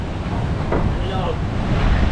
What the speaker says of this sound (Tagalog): Lakas ng hinihangin.